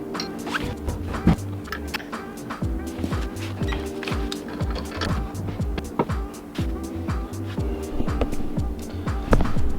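A 16-inch wheel on a Mk1 4Motion spins while the brake caliper rubs against it, giving a steady throbbing, rhythmic mechanical scraping and humming with repeated low pulses and occasional clicks, close and continuous throughout.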